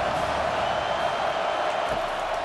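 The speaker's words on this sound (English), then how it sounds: "Decibels rising as the crowd gets behind this defense on third down." Crowd at a college football game between Auburn Tigers and Georgia Bulldogs roaring for the defense on third down, a dense, steady, loud stadium din of cheering that holds without a break.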